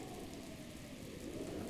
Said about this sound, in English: It's raining here, too, but I don't think it's not lightning rain. It's just rain.